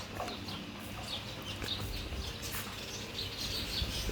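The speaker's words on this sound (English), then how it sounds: "Oh, the birds sound so good." Birds chirp and sing in a backyard in Africa, a dense, faint chorus of overlapping tweets and calls spread across the scene with no voices.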